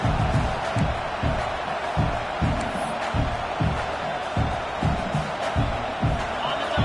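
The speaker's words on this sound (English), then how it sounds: "This crowd, full throat, spreading the eardrums" A stadium crowd at a college football game with Clemson, a dense wash of roaring cheers under a steady rhythmic thumping of chants or stomps, loud and sustained throughout.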